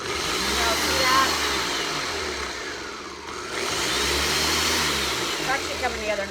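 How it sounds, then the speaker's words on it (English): A blender whirring through mac and cheese sauce, a steady loud motor drone that dips briefly midway and then resumes, with faint background voice. "While that's blending"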